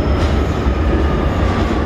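A crowded metro train in Spain rumbles along from inside the carriage, loud and steady, with low wheel roar and faint rail clatter and no voices over it.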